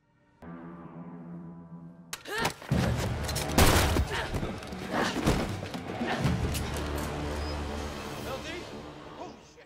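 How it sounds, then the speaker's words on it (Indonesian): Gunfire and heavy impacts ring out in a tense movie fight scene over a dramatic music score, with several sharp blasts and thuds spread across the stretch. "dimanfaatkan oleh LD dengan mengunci tenggorokan Caspian dan menembak tempurung kepala Anna."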